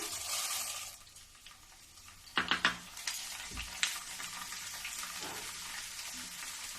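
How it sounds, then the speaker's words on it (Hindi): Namkeen snack fries in oil with a soft sizzle, broken by a cluster of sharp spoon scrapes and clinks in the middle as it is stirred, then a quieter crackle again. "और इसी प्रकार से चलाते रहूंगी"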